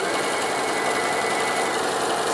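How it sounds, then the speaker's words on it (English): A sewing machine stitches quilt fabric along marked lines for half square triangles, a loud, steady, fast mechanical whir running without pause and without talk. "Since I am sitting down at my sewing machine, I'm just going to go ahead and sew on those marked lines for my half square triangle"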